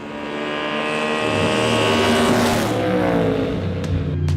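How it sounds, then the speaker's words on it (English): Ford Mustang GT3 V8 race car roaring past at speed, engine note swelling as it approaches and then dropping in pitch as it pulls away, loud and continuous with no talking. "It's almost time to go racing with the new Mustang GT3."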